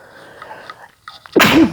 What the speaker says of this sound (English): I'm going to sneeze again in a minute